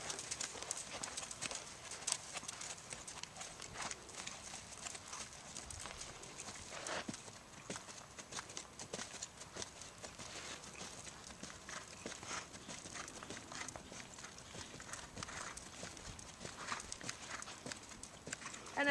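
Horse cantering during a riding clinic, a faint, distant rhythmic thud of hooves repeating steadily over a quiet, airy background.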